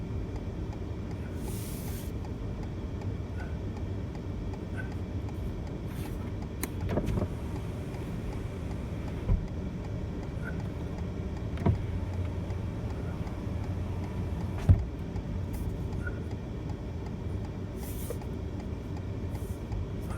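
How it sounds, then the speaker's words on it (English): A car or truck passes on a rural dirt pasture road, heard as a steady low rumble of engine and tyres with a slow swell, no distinct close pass-by, under continuous nearby vehicle noise. "here's a car coming"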